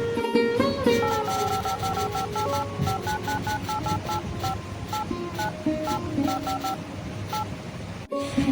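A telephone is dialed, giving a quick series of keypad tone beeps in an uneven rhythm, fairly close and clear over a steady background bed, with no talking.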